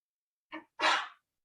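One person sneezes during a cloud-computing class session: a soft short intake, then a full sneeze burst, close and alone in an otherwise quiet room.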